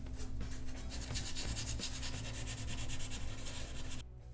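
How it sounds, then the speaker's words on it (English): Rust and debris are scrubbed off a chipped porcelain bathtub with 220 grit sandpaper, a close, continuous rapid rasping that keeps up evenly for about four seconds and then stops abruptly, with no talking. "I've got my 220 grit sandpaper. Let's start removing that rust and debris."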